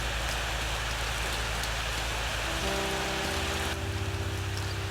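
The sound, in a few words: rain falling in the Shattered Realms video game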